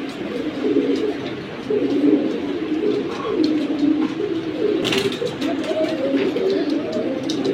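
Military pigeons coo in soft, repeated low throaty phrases close by, a steady stream of overlapping calls with a few faint chirps and clicks mixed in.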